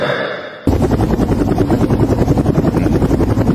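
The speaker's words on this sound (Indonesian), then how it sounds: "Pak supir, siapkan helikopter." Helicopter rotor thumping loudly and steadily after a brief quieter lead-in, a continuous close fly-by drone used as a sound effect.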